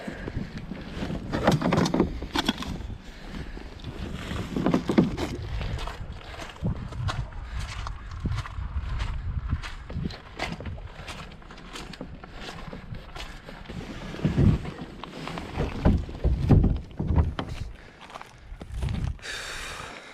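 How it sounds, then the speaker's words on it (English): Footsteps of someone carrying camping gear up from a kayak landing to a campsite, uneven crunching steps and gear knocks close by, with wind buffeting the microphone. "I'm gonna bring all the gear up, start setting up camp."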